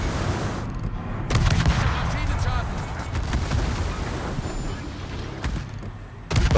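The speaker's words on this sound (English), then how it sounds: "so we can use the guns here." Naval guns fire in a warship combat video game, dense booming salvos rolling over one another continuously with sharp blasts near the start and end.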